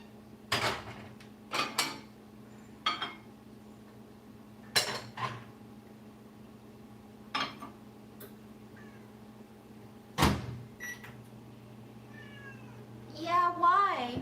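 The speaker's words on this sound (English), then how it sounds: "Why are you meowing though?" A cat meows now and then in a home kitchen while rugelach are being baked, its short cries mixed with sharp clinks of dishes and cutlery and the knock of a drawer, and a voice talks briefly near the end.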